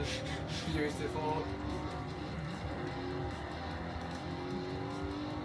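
Tires squealing as a car power slides in the video game Forza Horizon 4, a sustained screech over loud engine roar, with a voice talking over it.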